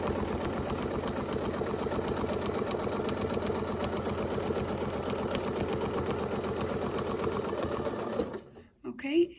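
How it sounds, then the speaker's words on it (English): Sewing machine needle running fast and steady along a continuous border loop template on a quilt, a dense even stitching rhythm for about eight seconds before stopping abruptly, with a short rustle of fabric at the end. "so we'll just sew along"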